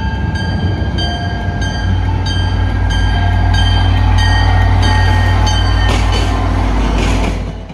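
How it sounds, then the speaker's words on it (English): An outbound commuter train rumbles steadily into Haverhill Station, Massachusetts, low engine drone with a faint squeal, growing louder and closer over several seconds. "Back at Haverhill Station, waiting for an Amtrak while an outbound pulls in."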